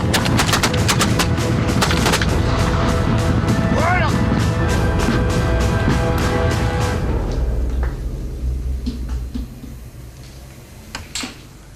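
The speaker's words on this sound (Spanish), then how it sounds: "Los soldados veteranos dejaban que el oponente se acercase a unos 20 metros y entonces disparaban su salva mortífera" Musket volleys at the Battle of Leipzig crack out as a rapid, dense run of loud close shots for several seconds, then thin to scattered distant reports while a voice narrates over the gunfire.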